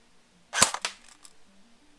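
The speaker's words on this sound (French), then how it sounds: "On va faire 3 tirs." A Cybergun AK47 airsoft AEG rifle fires a single shot at a target: one sharp, close snap followed by a few quick, fainter mechanical clicks, then quiet.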